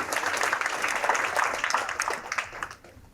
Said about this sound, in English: I like how people are just being polite now and just clapping because I say clap